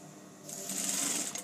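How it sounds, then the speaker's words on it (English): Industrial sewing machine stitching across the shoulder seams of a dress, a steady close whirring run that builds and holds for about a second with no talk. "So I'm just going to stitch across these two seams here and here."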